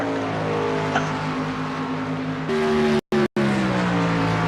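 Race cars circle Homestead Miami Speedway, a sustained engine whine that shifts pitch, with a couple of brief dropouts near the end.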